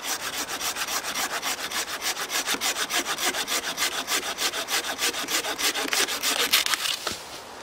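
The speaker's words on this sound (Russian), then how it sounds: "Так, и попробуем тут же лучковкой." Bow saw cutting through a wooden log, a steady rhythmic series of rasping back-and-forth strokes, close and clear, ending with a final snap as the cut finishes.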